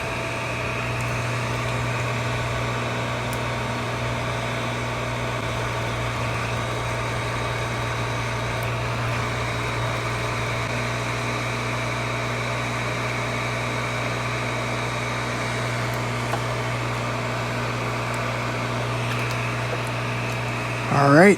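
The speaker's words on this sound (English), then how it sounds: "take the hot air and heat the connector to remove it" A hot air rework station blows steadily on a connector of a 12-inch MacBook logic board, giving a constant, loud whooshing drone with a low hum that holds unchanged throughout.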